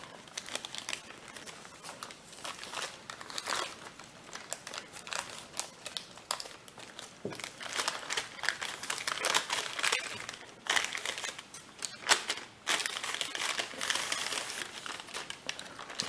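Origami paper being creased into mountain folds, with crisp crinkling and crackling bursts that come in quick clusters, close and fairly quiet, with no voices.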